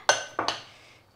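Spoon or whisk clinking against a bowl while mixing bakwan udang (Indonesian shrimp fritter) batter: three quick clinks close up, then a fading ring, no talk.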